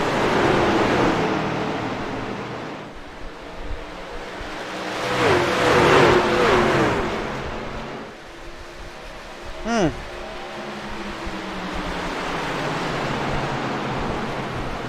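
Race truck engines from a seven-truck pack in an SRU Truck Series race, a broad roaring drone with rising and falling engine pitches and one sharp whining pass, heard under continuous commentary.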